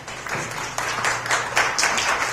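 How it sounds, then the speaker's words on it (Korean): A lecture audience claps together in a steady, moderately loud wash of applause that carries on throughout with no voices over it. "박수 한번 주십시오"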